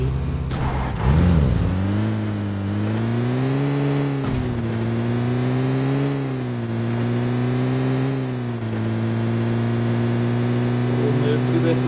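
Car engine in a battle royale video game, a steady droning motor that rises and falls in pitch as the vehicle speeds up and eases off, loud and continuous throughout.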